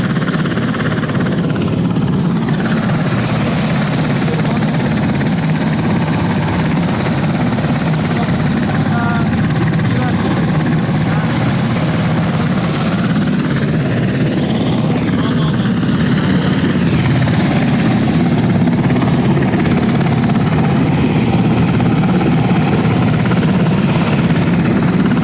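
A US Navy Seahawk helicopter hovers close by during an evacuation, its engine and rotor giving a loud, continuous droning roar with a steady throbbing pulse and no letup.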